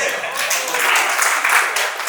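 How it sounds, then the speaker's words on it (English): Students at a Rotary Club job-interview workshop applaud, a bright, continuous wash of clapping from a room that holds steady for a couple of seconds. "Big round of applause."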